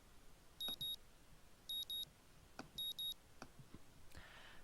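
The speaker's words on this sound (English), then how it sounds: "The morning alarm sounds and I roll over, switching it off." A morning alarm clock in the Katawa Shoujo video game beeps in three paired double-beep bursts, crisp and electronic, separated by short pauses, with soft knocks and rustling between and a brief hiss at the end.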